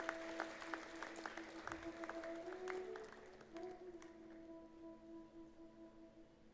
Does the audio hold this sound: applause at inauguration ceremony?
yes